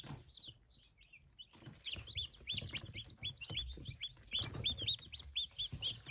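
Several high-pitched chirps and peeps from a Silkie chick repeat in quick succession, fairly close, over a low rumbling background with soft clucking.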